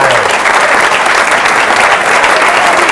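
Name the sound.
audience applause for comedian Brian Kiley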